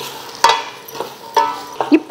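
Vegetables sizzle and are stirred in a pan, with a few sharp scraping clatters of a utensil over a soft frying hiss.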